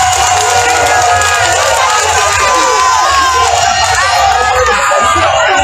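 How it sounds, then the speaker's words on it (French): Large crowd at a political rally in Yopougon, Côte d'Ivoire roars with loud continuous cheering, shouting and whistles, a dense, distant mass of noise throughout. "Applaudissements."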